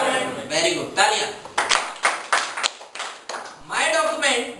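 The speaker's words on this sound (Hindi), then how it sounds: "वेरी गुड, तालियां।" A classroom group during a Hindi computer lesson claps in short bursts, several quick rounds of hand clapping separated by brief gaps, fairly close and loud, with voices speaking around the claps.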